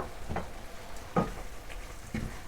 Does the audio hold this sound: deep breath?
no